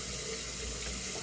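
Water runs steadily from a faucet while hair is being wetted, a close, even splashing rush that continues without a break and without any talking.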